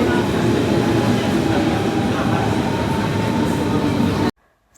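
A train arriving at a station makes a loud, continuous rumble and rattle that stays steady, then cuts off abruptly.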